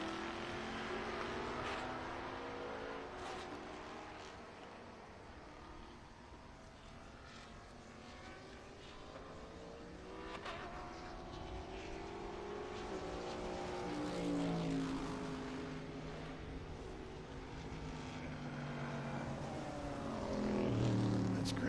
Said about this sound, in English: Grant getting by him in the Porsche